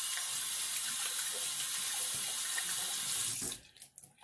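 Water runs steadily from a tap into a sink in a steady, fairly loud, hissing stream during shaving preparation, then cuts off abruptly, leaving a few faint drips and small clatters.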